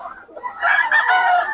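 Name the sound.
Boston sweater gamecock rooster crowing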